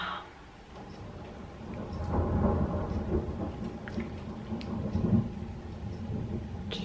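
A thunderstorm rolls through with steady rain falling and low, rumbling thunder swelling and fading across the whole stretch, heard from indoors without any voices.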